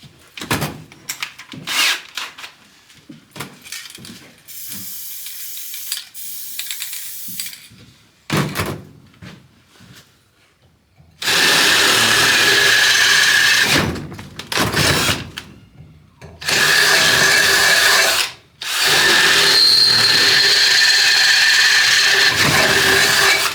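Drill bits bore holes in a budget motorcycle chopper exhaust. Scattered clanks and handling noises lead into several loud, sustained high-pitched drilling bursts separated by brief pauses.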